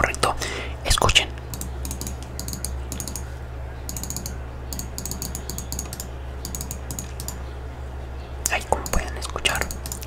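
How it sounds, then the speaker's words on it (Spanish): A Razer DiamondBack computer mouse gives bursts of sharp, rapid clicks at close range, with a soft whispering voice at the start and end and quieter stretches between the click clusters. "van a escuchar cómo se escucha el cliquido o el click de mi mouse Razer Diamond Back"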